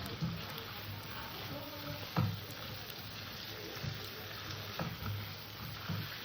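Fried potatoes dropped into a pan of shol (snakehead) fish curry, where the spices have cooked until the oil separates, giving a soft, steady sizzle with faint clatter and a few brief bumps, no voices.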